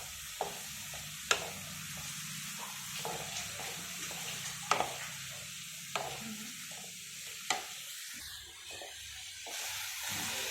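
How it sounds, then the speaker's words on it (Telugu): Shredded cabbage frying over a medium flame, a quiet steady sizzle and hiss with a handful of sharp scrapes and taps from stirring at irregular intervals, close but faint, no talking. "మీడియం ఫ్లేమ్లో పెట్టుకొని ఇలా వేపుకోవాలి"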